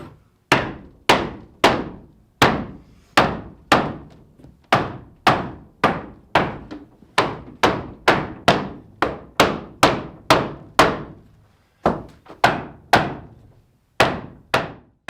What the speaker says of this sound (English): I was pretty confident they were strong enough to be hammered on so aggressively